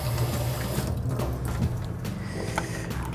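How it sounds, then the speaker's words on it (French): Hot water runs from a kitchen tap in a steady continuous stream, fairly loud and close, with a low rumbling hum beneath it and no talking. "on prend de l'eau chaude du robinet"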